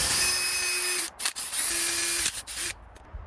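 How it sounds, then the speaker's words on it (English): A power drill whines steadily in short bursts while drilling a small hole during a CCTV camera installation, stopping briefly twice, loud and close, with no voices. "just use a normal drill piece just to drill a small hole in here"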